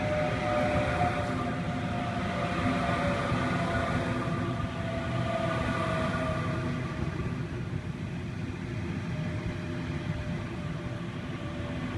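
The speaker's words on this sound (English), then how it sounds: "Waratah A74 arriving here at Richmond on platform 2." A Waratah electric train rumbles steadily with a broad, continuous roar and faint tonal hum, running close alongside the listener for the whole stretch as it arrives at a platform at Richmond station, Sydney.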